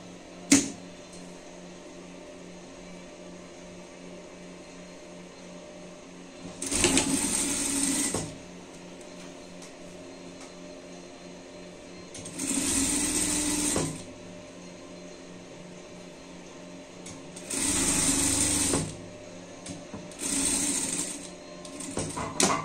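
A sewing machine stitches a garment seam in four separate bursts of steady mechanical whirring, each lasting one to two seconds and separated by quiet pauses, close up and with no talking.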